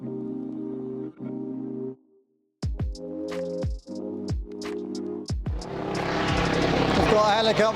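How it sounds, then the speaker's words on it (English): A helicopter passes right overhead on a city street, a broadband rumble swelling steadily louder toward the end, following a stretch of harmonic tones and sharp clicks. "We've got a helicopter right above us now"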